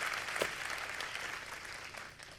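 Applause from an audience at an Apple product event, a steady wash of clapping at moderate volume lasting the whole moment without any voices on top.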